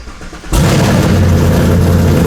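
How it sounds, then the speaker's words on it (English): A Whipple supercharged Mustang Mach 1, running a stock cam and built for about 700 wheel horsepower, cold-starts after half a second of quiet. The engine bursts to life loudly and settles into a steady, close, rumbling idle. "listen to this cold start real quick"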